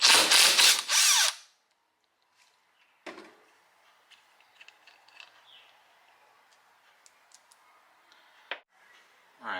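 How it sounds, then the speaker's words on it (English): A power tool unbolting the front pulley of a 1995 Ford supercharger: one loud, close burst of about a second, then near silence broken by faint metallic clicks and taps. "we can go ahead and unbolt our front pulley."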